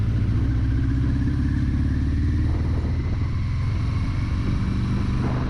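A 1982 Suzuki GS1100G with rebuilt carbs rumbles steadily on a test ride, its low engine drone constant and close with wind rush over it, no talking.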